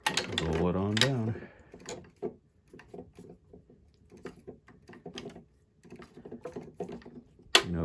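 A sticky dust roller rolls over the keys of a Roland Juno-6 synthesizer, giving soft irregular clicks and taps that come in short clusters, faint and close, with a voice speaking briefly near the start.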